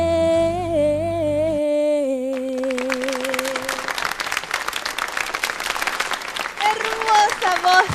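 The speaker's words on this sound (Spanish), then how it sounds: "Aplausos" Audience applause rises after a sung song ends on a Spanish-language home TV show, the final sustained notes giving way to a steady wash of clapping that swells again near the end, with a voice speaking over it.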